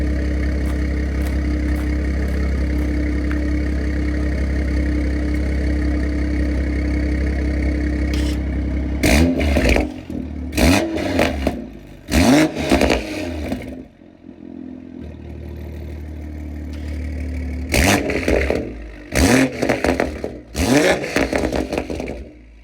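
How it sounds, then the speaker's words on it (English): A Stage 2 BMW M340i with a Dinan valved exhaust idles steadily in a driveway, then is revved hard in a series of sharp blips, dropping back to idle between bursts before another run of revs. "So I'll give you guys some revs."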